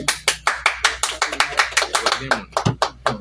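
An audience claps steadily in quick rhythmic bursts to honor William Joseph, the sharp claps close and loud, with voices mixed in among them.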